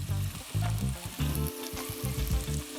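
Meatballs frying in oil in a pan, a close, dense sizzle with bubbling crackle that swells and dips unevenly, with a low background hum and no voices.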